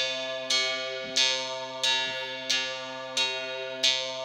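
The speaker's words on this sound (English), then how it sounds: "that one is kind of letting the bell ring loud" A bell is struck six times at an even pace, each strike bright and ringing before it decays, with its level held steady by a Beatmaker 3 compressor.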